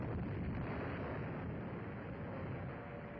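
Continuous loud rumbling blast roar from the Pearl Harbor attack, dense low booming with no clear gaps, steady through the whole stretch.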